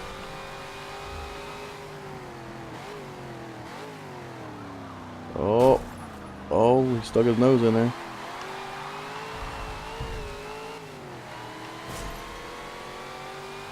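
Race car engine in Forza Motorsport 7, a steady droning hum with shifting pitch as gears change, a few sharp louder revving bursts midway, and someone talking over it.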